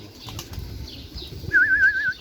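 Pigeon wings flap past in a soft burst, followed by a warbling bird call, with faint background noise, on a farm in Baku.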